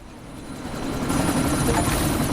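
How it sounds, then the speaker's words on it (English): Helicopter from the video game Deus Ex: Mankind Divided, a steady loud rotor and engine roar that builds slightly in volume and holds near and continuous throughout. "you need to disable that chopper"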